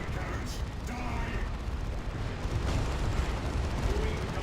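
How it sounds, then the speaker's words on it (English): Bombardment cannons fire in the Space Marine video game as a dense, rumbling barrage of heavy booms with mechanical clanking, while a voice talks over the battle. "Firing the bombardment cannons."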